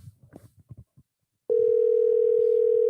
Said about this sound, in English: Because this calls for a call. This calls for a call, you guys.